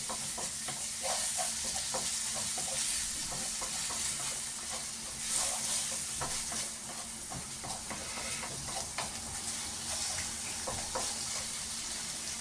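Steady sizzling of garlic frying in a hot pan, with occasional scraping or stirring clicks, continuous and fairly close.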